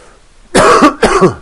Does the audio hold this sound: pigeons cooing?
no